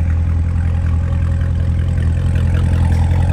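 A supercharged 650 hp 2017 Chevrolet Corvette 1LZ automatic coupe idles with a loud, steady, deep rumble that stays even throughout, with no voices.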